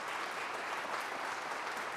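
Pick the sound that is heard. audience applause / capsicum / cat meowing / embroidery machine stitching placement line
audience applause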